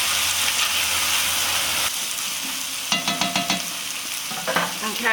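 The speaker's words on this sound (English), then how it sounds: "I'm just going to give that a bit of a stir and let the tomato paste cook out for a little bit." Tomato paste cooking in a pan is stirred with a spoon, giving a steady sizzle and hiss with a run of quick clinking scrapes partway through, close and alone with no talk.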